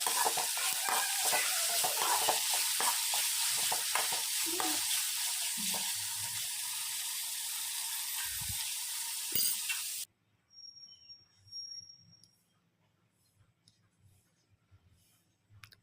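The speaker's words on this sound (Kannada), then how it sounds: "ಉಪ್ಪು ಹಾಕೋದ್ರಿಂದ ಟೊಮೆಟೊ ಬೇಗ ಫ್ರೈ ಕೂಡ ಆಗುತ್ತೆ, ಮೆತ್ತಗಾಗುತ್ತೆ." Tomatoes fry and sizzle in a pan for mandakki oggarane, a steady close crackle with stirring clicks for about ten seconds, then the sizzle cuts out leaving only faint scattered kitchen sounds.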